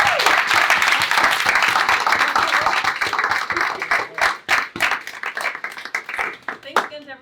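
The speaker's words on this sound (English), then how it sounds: "Give a fine round of applause for our 2021." Audience at a 2021 startup demo day summit applauds: a full burst of many hands clapping that thins into scattered individual claps toward the end, with a voice breaking in near the close.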